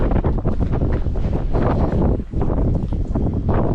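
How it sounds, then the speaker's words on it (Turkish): Strong wind buffets the microphone continuously with heavy low rumbling gusts, dipping briefly midway before roaring back. "Çok rüzgarlı hava."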